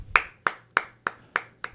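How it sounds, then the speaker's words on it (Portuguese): Hands clap six times alone in a quiet room, close and sharp, at an even steady rhythm about a third of a second apart, marking the autumn equinox. "eu vou estar batendo palmas"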